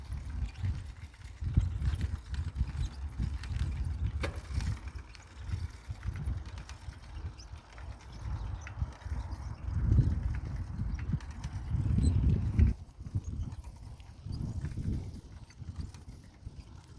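Horses clip-clopping along a town street, a steady run of hoof beats close by, with low rumbling background noise that swells at moments.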